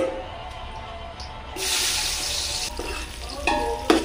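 Onion goes into fully heated oil in a pot for curd chicken, setting off a sudden loud sizzle that keeps frying steadily nearby with a few stirring clatters.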